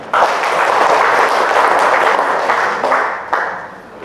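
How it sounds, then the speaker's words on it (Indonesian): Audience applause at an official training session in Sragen, a dense burst of clapping from a roomful of people, steady and loud for a few seconds before tapering slightly. "Tepuk tangan."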